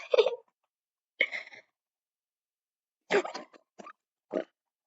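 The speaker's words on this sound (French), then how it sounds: "Oh, c'est un cochon." A pig in the Minecraft video game gives short grunts and snorts, five brief bursts with silent gaps between them, set against otherwise quiet surroundings.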